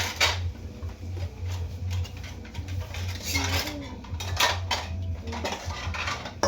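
Ceramic plates clatter and clink together repeatedly, scraping and knocking in an uneven rhythm close by, with no talking.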